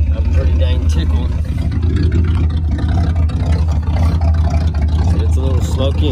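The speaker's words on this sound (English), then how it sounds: "it is a running and driving Monte Carlo" A running 1984 Chevrolet Monte Carlo with a smoky engine holds a steady, loud low rumble throughout, and someone talks over it the whole time.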